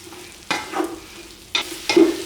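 Curry powder and onions stirred in a pan over low heat, with a soft sizzle under a few scraping stirs of the spoon; no talk.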